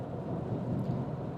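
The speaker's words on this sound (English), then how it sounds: "It's starting to rain." Rain during a road trip drive, a dense steady wash of drops and low rumble heard from inside the car, continuous and fairly close with no talk.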